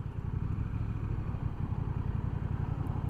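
A 2023 Honda Rebel 1100T DCT motorcycle braking to a stop as its automatic transmission downshifts into second, the engine giving a low, steady, throbbing rumble close by.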